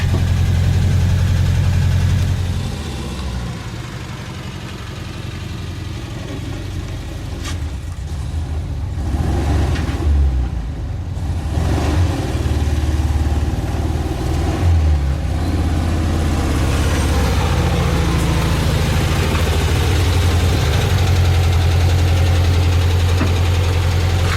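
A 1974 VW Super Beetle's air-cooled engine runs steadily and fairly loud near at hand, with a low idle-like rumble that dips briefly around a downshift, then settles back into a constant drone with no talking.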